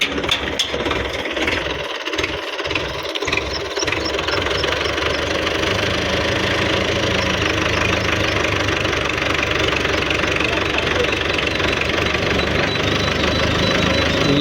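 Russian 510 tractor engine driving a large Plus model thresher through the PTO, a loud, steady, continuous mechanical drone with a rhythmic knock running through it from start to finish, with no talking.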